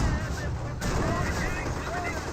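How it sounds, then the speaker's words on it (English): A Panzer IV tank firing on an M18 Hellcat in the World War II strategy game Company of Heroes: sustained, booming cannon and battle noise filling the whole span, with a commentator talking over it. "And does go ahead and fire Panzer IV there onto the Hellcat"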